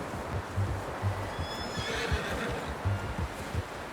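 A horse in the video game Red Dead Redemption 2 whinnies over a steady bed of low rumbling noise and faint thudding, the call rising and trailing off across the middle of the clip.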